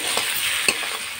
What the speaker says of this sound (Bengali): এই আলুগুলো দিয়ে দিলাম, দিয়ে এটাকে ভালো করে কষিয়ে নেব।